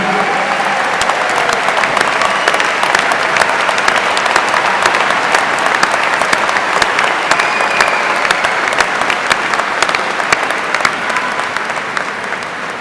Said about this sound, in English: Where else can you go and have thousands of people cheer you on about being a mother, right?